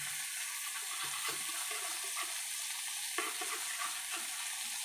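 Rui fish frying on a clay stove gives a steady, close, high sizzle of hot oil, broken by a few brief clattering bursts as the pieces are flipped.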